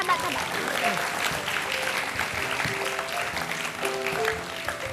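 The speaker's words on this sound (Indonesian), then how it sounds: "Tepuk tangan, tepuk tangan, tepuk tangan. Tepuk tangan hebat." A studio audience at an Indonesian talk show claps steadily, a dense wash of applause that fills the whole stretch at an even level while voices talk and call out over it.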